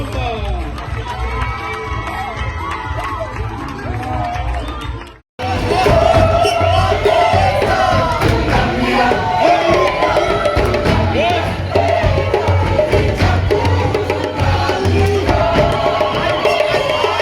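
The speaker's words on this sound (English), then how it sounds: "A big round of applause, ladies and gentlemen, Dr. Alpo Mbamba." A crowd at a televised public event roars with sustained applause and cheering as a speaker is introduced, loud and dense throughout apart from a brief cut near the start.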